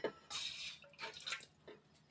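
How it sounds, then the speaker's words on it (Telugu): Water is poured into a pot sitting on a lit stove, faint splashing trickles coming in short uneven bursts, close by and quiet, with no one talking. "అందులో కొంచెం వాటర్ వేద్దాం"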